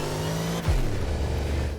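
An electric Hyperion XP-1 hypercar in The Crew Motorfest, shifted into third gear: a steady motor whine that suddenly drops and sags into a low, limp drone, loud and close with no talking.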